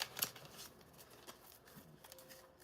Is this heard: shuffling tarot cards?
yes